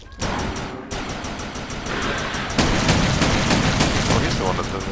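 Weapon testing in the shooter game Defiance: rapid bursts of automatic gunfire and sharp shot reports that get louder and denser partway through, with repeated rhythmic firing loud and close.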